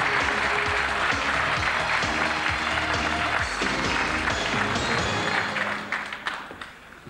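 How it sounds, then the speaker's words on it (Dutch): Studio audience applauding on a Dutch TV casino quiz show, dense and loud clapping that holds steady for several seconds before thinning out near the end. "Geef ze nog een hartelijk applaus."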